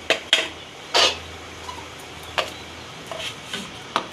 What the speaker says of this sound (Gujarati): આ સાકર છે એને આપણે મિક્સર જારમાં કાઢી લેવું